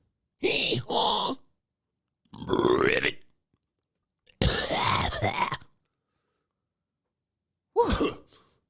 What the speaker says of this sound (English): I think I need to clear my throat right now.